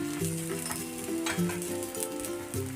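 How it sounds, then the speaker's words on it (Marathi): Marathi thalipith made with betel leaves cooking on a hot pan, a close, continuous sizzle with soft crackles and faint scraping, with no talking. "थालीपीठ टाकून घ्यायचं वरून थोडं प्रेस करायचं अलगद असं कापड काढून घ्यायचं आणि दोन्ही बाजूने व्यवस्थित भाजून घेऊया"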